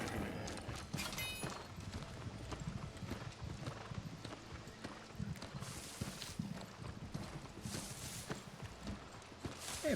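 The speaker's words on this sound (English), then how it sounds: "They have a very nice horse." A horse's hooves clip-clop at a steady walking pace in the New World video game, the rhythmic clatter running continuously over a busy layer of game ambience.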